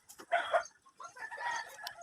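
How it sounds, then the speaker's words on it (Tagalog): Chickens clucking and calling close by, a few overlapping squawks in quick succession. "Kagubot na yung mga manok mo doon."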